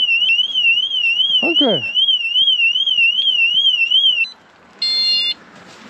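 A KTM motorcycle alarm system sounds loud and close with a steady warbling electronic siren, then cuts off, followed by a brief beep; a short voice is heard and a whooshing sweep passes early on.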